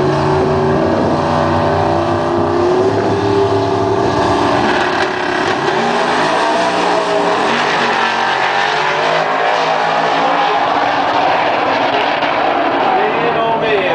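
Mustang drag cars roar down the strip in a race, a loud sustained engine drone with shifting pitch that fades, under an announcer's continuous commentary.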